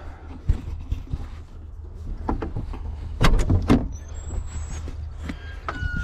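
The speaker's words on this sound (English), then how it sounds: "Come on, door." A stuck door is forced open, giving a run of irregular knocks, thuds and scraping bumps, with a louder burst of banging midway, over a low rumble of nearby vehicle noise.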